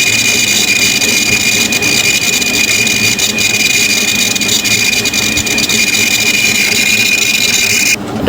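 An opened hard disk drive with two exposed platters spins at high RPM, giving a loud, steady whirring whine with a thin high tone that holds evenly, then cuts off abruptly just before the end.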